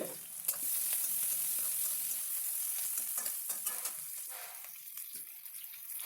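Chopped onions frying in oil in a pan for a kidney bean curry, a steady bright sizzle with scattered crackles and occasional stirring scrapes, close and fairly soft throughout with no talk.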